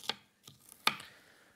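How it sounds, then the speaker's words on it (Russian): A knife chops onion on a cutting board while cooking Greek-Cypriot soutzoukakia: three sharp, separate chops, close and crisp, with short quiet gaps and no talking. "Я его сейчас нарежу небольшими фрагментами."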